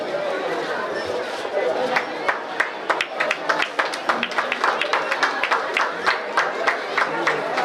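An audience claps to welcome guests at a village Chhattisgarhi Olympics event, with steady rhythmic hand claps repeating throughout under a continuous hum of crowd chatter.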